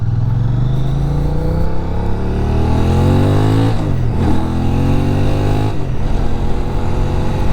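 Benelli Tornado 550 motorcycle engine under way, a loud steady drone climbing in pitch through the gears, with two brief dips near the end as it shifts and pulls again, no talk.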